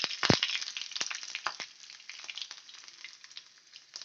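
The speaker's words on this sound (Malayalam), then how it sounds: "അപ്പോൾ നമ്മളെ വെളുത്തുള്ളി കണ്ടില്ലേ നന്നായിട്ട് ഫ്രൈ ആയി വന്നു കേട്ടോ" Garlic frying in hot oil for a green chilli pickle, a close crackling sizzle with frequent sharp pops and spits, steady and unbroken with no voices.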